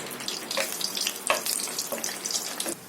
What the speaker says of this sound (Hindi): इसी बचे हुए तेल में 10 से 12 काजुओं को फ्राई कर लेंगे।